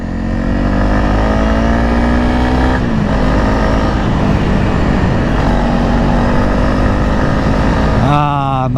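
Honda CRF 300 motorcycle engine under way, a loud steady drone with rising pitch as it accelerates, a drop at a gear change, then another gear shift and revving near the end, captured close over wind.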